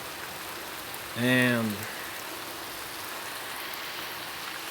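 Heavy rain pours down in a steady, dense hiss that fills the scene evenly, while a voice briefly speaks a single word over it.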